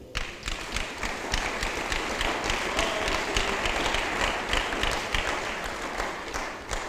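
Congregation at a church service clapping steadily in acclaim of the Lord, dense sustained applause filling the space throughout with no pauses.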